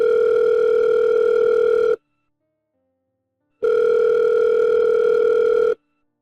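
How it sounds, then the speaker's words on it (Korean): A telephone line tone sounds while a call is being placed: two long, steady electronic beeps about two seconds each, loud and clear, separated by a silent pause. "내가 전화해 볼 테니까 잠시만 시간 줘보세요"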